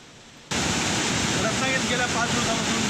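Heavy waterfalls in Ratnagiri swollen by days of torrential monsoon rain, a loud, steady, broadband roar that starts abruptly and continues unbroken, with no voices.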